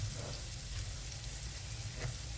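Oil sizzles in a pan for cooking prawns with gourd greens, a steady, close, even hiss that runs throughout.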